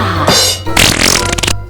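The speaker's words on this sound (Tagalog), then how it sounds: "Mao niyang utot nga nakalugar." A loud, drawn-out fart with a sputtering, ragged texture, short and close, standing alone without talk over it.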